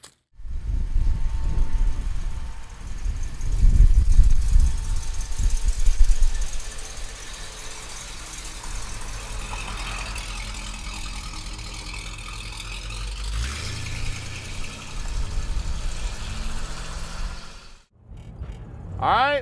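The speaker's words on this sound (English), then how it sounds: "let's take our 58 Impala convertible for a ride" A 1958 Chevrolet Impala convertible rumbles low and steady while driving, heard close and continuous with some rise and fall in level, and faint wind and road noise toward the end.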